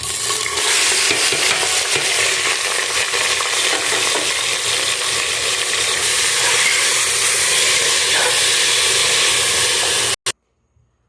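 Plenty of onions fry in hot oil with cardamom, cinnamon and bay leaves, giving a loud, steady, dense sizzle with stirring scrapes for about ten seconds before it cuts off abruptly.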